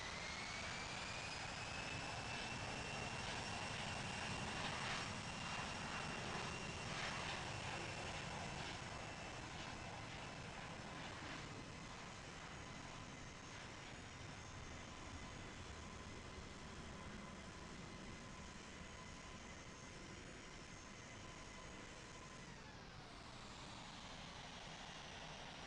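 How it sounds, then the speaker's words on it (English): A fixed-wing aircraft takes off from runway 27 left at London Heathrow, its steady jet-engine roar layered with whining tones that slowly shift and fade, with no talking. "November 451 Golf November is taking off runway 27 left"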